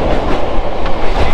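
A Howrah to Tarakeswar local train running at speed, heard loud and close from aboard as a continuous rumble with rhythmic clickety-clack of the wheels over the rail joints.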